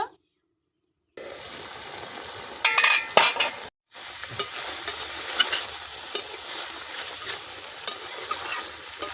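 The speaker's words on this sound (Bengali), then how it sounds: "ঢাকনাটা খুলে আবার নেড়ে দেব।" Mutton curry being stirred in a pot after the lid comes off, with a brief clank, then sizzling bubbling and repeated scraping and clinking of a spoon against the metal, close and fairly loud with no voices.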